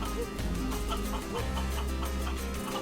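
Chickens cluck in the video game Guacamelee! 2, short clucks over steady, loud in-game music.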